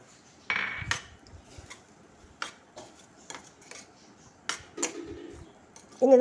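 Avocado, capsicum and crushed mozzarella being stirred in a pan, with scattered clinks and scrapes of a spoon against the pan coming in short irregular bursts amid quiet gaps, with no voices.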